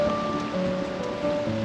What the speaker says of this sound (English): Oh, here comes the rain. You can hear it.